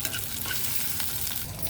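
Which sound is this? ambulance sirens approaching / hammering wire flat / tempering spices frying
tempering spices frying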